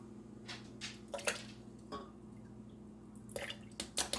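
Two tablespoons of apple cider vinegar poured into a blender, heard as faint, sparse drips and small liquid splashes in a quiet kitchen.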